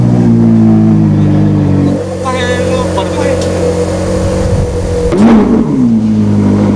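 Supercar engine, Ferrari or Lamborghini, idling loud and close with a deep steady drone, then a quick throttle blip rising and falling around the fifth second, with people talking over it.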